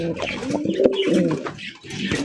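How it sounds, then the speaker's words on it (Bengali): A male pigeon coos nearby in a loft of fancy and racing pigeons, a close, throaty rolling call over a busy background of other birds. "ওইটা হলো নর ভাই ডাকানোর চেষ্টা করতেছে"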